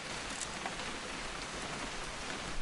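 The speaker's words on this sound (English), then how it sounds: "It's gonna rain the whole weekend, isn't it?" Steady, dense rain falls without a break in the video game What Remains of Edith Finch, a close, even patter that fills the scene.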